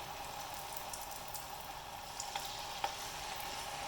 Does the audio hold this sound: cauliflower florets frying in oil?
yes